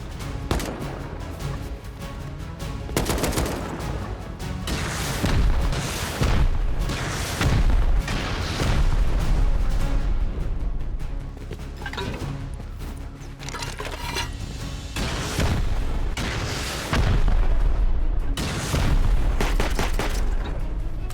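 A video game's automated turret fires at the player in a mountain survival setting: loud, close bursts of rapid gunfire with booming impacts, repeating in waves throughout.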